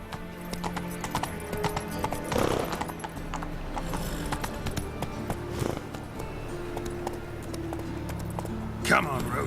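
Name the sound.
horse Roach galloping in video game The Witcher 3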